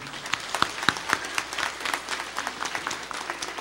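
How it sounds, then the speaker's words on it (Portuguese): Congregation applauding during a church celebration for the triduum of Our Lady Aparecida, a lively burst of many hands clapping at moderate distance, uneven and slightly rhythmic. "Vamos nos acolher a todos com uma calorosa salva de palmas."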